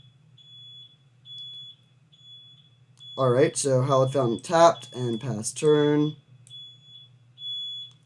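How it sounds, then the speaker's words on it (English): Thin, high alarm beeping from outside, repeating in short steady pulses under a voice. "There's some beeping outside."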